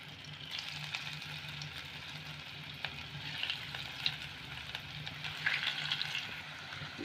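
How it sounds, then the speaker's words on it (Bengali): Potatoes deep-fry in hot white oil over a high gas flame, giving a continuous soft sizzle and crackle at a moderate distance, with no talk. "এবার আমি আলুগুলো তেলের মধ্যে দিলাম"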